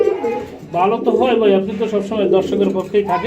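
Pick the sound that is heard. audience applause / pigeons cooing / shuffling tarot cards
pigeons cooing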